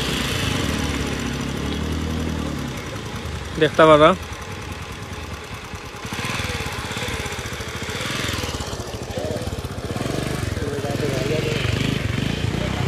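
A motorbike engine labours and revs unevenly as it pushes through floodwater after heavy rain in Kulaura, running close and continuously with a brief sharp squeal, while someone talks over it.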